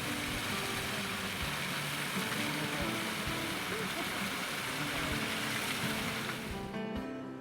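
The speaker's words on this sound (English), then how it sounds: "there is a waterfall that cascades down rocky outcroppings into La Luz Creek" Steady broadband rush of a waterfall cascading down rocky outcroppings into La Luz Creek, near clay deposits, a continuous loud wash that holds evenly throughout before easing slightly at the very end.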